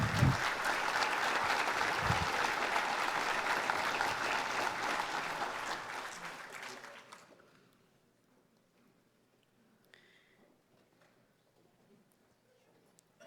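An audience at a police merit awards ceremony gives a round of applause: dense, sustained clapping fades out after several seconds, leaving a quiet room with faint rustles.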